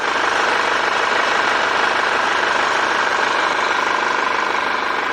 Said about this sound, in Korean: 지금 밖에 나와서 차량 엔진룸 앞에 나와 있는데 엔진 소리 먼저 한번 들려드릴게요